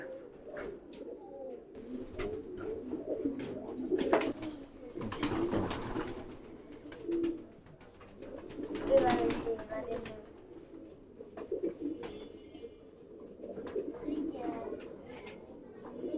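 Giribaz pigeons in a loft coo in soft, repeated low bursts, several birds overlapping at close range, with a voice talking intermittently over them.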